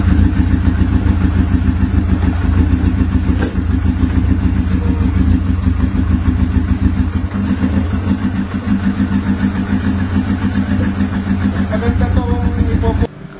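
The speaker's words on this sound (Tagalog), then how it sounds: "napakatining ng makina" A big-bike motorcycle engine idles steadily and loudly close by, a continuous low rumble with a brief rev near the end.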